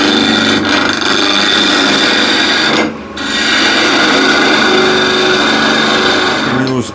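A wood lathe spins at full speed while a 3/4 inch spindle gouge turns the workpiece, giving a loud continuous rasping, scraping whir with one brief dip partway through and a squeal near the end.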